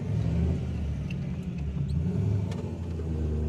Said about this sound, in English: the truck is running and driving great